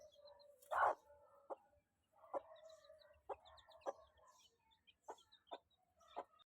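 A hen and her seven young chicks cluck and peep in short, scattered calls, with one louder burst early on, heard close by against a quiet background.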